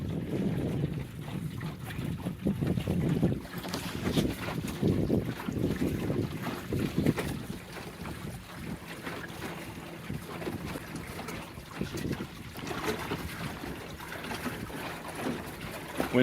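Light wind rushes past the microphone aboard a John Welsford Navigator sailboat on Lake Superior, a steady low buffeting with faint water sounds. It runs on with no talking.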